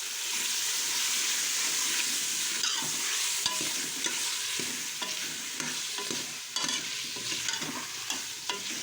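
Potatoes go into a hot pan of oil for aloo baingan and fry with a steady, loud sizzle, broken by scrapes and clatters of stirring, close up with no talk.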